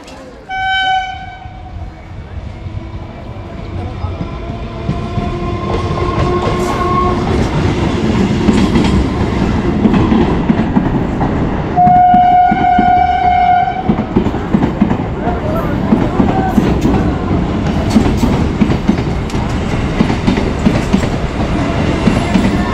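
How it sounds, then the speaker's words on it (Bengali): A train pulls into Plassey railway station, sounding loud horn blasts at the start and again midway, then a rising rumble and rhythmic wheel clatter as it comes closer, with crowd voices on the platform beneath. "তো ট্রেন চলে আসছে, দেখতে পাচ্ছেন ওই সামনে ট্রেন আসছে।"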